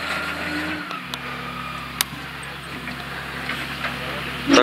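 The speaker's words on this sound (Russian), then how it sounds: "При развороте обе оси копалки поворачивают тоже" A Grimme potato harvester turning in a field: a loud, steady low engine drone with a constant mechanical hum and a brief surge near the end.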